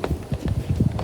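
A horse on a farm walks with a quick, uneven clip-clop of hooves, several soft thuds in a brief burst, fairly close, with no voices.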